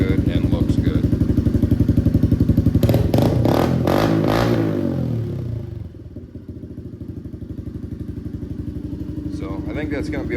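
A Honda CRF110F pit bike fitted with a BBR D3 exhaust and uni air filter idles and blips with a loud, close, choppy single-cylinder bark, then settles into a steady lower idle, with speech heard over it.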